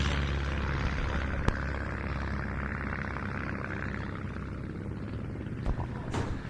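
A WWI-era US Army Air Service propeller aircraft flies over the Duxford airshow with a steady droning engine hum, moderately loud and constant, with a couple of brief sharp clicks.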